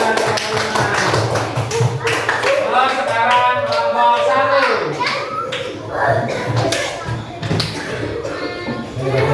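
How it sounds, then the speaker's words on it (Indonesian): Schoolchildren in an elementary classroom give lively, irregular applause for a presenting group, with overlapping children's voices and shuffling mixed throughout the clapping. "terima kasih kelompok 5, berikan tepuk tangan"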